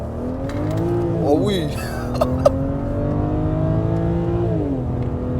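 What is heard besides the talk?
BMW 335i engine revving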